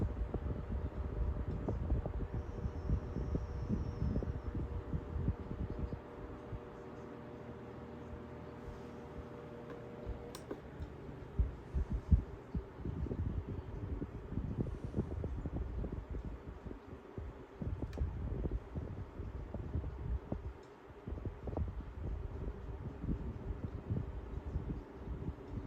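A quiet royal blue 8-inch Opolar desk fan runs with a soft, steady whoosh and a faint hum. It is heard close up, alone, at low volume, with a few light bumps and rustles.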